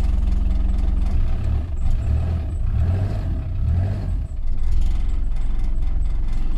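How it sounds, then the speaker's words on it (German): A Mercedes diesel engine with a completely broken exhaust idles in the cold, giving a loud, steady, rumbling low drone with a rough, uneven throb and some mechanical rattling. "Der Auspuff ist auch komplett im Eimer."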